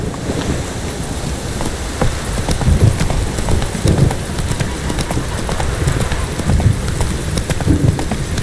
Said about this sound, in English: Come on, Roach. Whoa! Giddy up